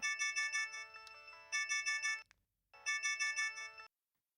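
A phone ringtone plays a bright repeating electronic melody in three bursts separated by short pauses, clear and alone with no talking.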